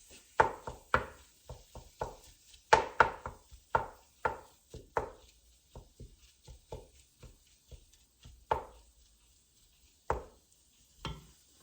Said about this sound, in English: I'm going to be cutting up these 4 large russet potatoes.